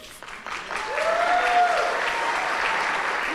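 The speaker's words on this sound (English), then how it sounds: "we may want to hold our applause till the end because Pete's got a lot of support in the room" Audience at a campaign kickoff event breaks into applause, which swells after a moment and holds steady, close and fairly loud, with a voice faintly underneath.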